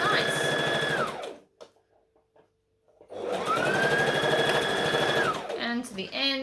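A sewing machine runs in a fast, close whirring burst while stitching a batwing dress seam, stops for a quiet gap with small handling clicks, then whirs again for a second long run before trailing off.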